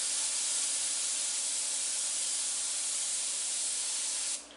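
An airbrush sprays blue paint in a light pass across the top of a chrome emblem design, a close, steady hiss running continuously before cutting off at the end, with no talking.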